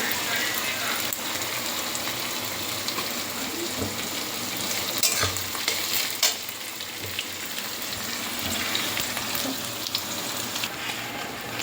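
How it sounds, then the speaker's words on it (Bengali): Onions sizzle steadily in a pan for chicken kosha, a dense broadband crackle of frying with occasional stirring scrapes and clicks, fairly close and continuous throughout. "পেঁয়াজগুলো একটু ভালো করে ভাজা ভাজা হোক"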